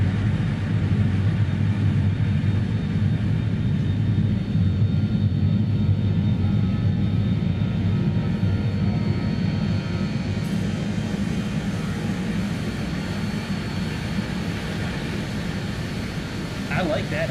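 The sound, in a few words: BAE 146 jet engines heard from the cabin, video game MSFS 2020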